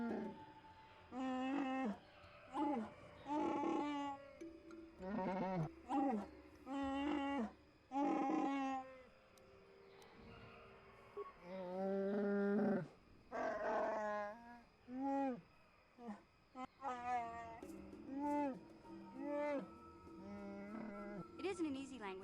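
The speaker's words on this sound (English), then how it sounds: "It isn't an easy language to learn, what with all the growls and howls." Growling, roaring alien language from the KOTOR video game, spoken in bursts of guttural, voice-like phrases with short pauses, close and loud, running continuously through the stretch.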